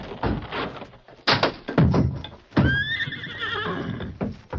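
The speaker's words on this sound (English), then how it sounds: "Your hoofs can knock that door down." Silver, a horse, whinnies loudly and rises into a long neigh, while hooves thud and knock heavily against a wooden door in several sharp blows.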